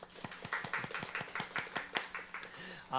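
A church congregation claps in welcome at a Sunday service, sharp separate claps in a fairly steady rhythm that stay close and fairly loud without growing into a full ovation.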